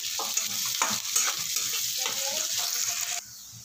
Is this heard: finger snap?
no